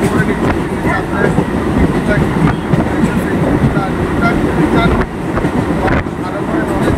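A train ride from inside the carriage: a steady, loud rumble of wheels and car body runs through the whole stretch without a break.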